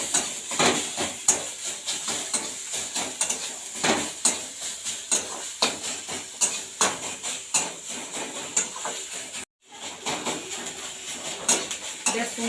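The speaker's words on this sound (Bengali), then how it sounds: "এরপর আমি মাছের তেলটা এর সঙ্গে দিয়ে ভালো করে ভেজে নেব।" Onions browned in fish oil in a pan sizzle quietly while a utensil knocks and scrapes against the pan at irregular intervals, close and fairly soft, with one very brief dropout.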